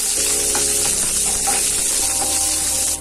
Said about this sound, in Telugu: సన్నగా కట్ చేసుకున్న ఆనియన్ రెండు వేసుకున్నా బాగా ఫ్రై అవ్వాలి అది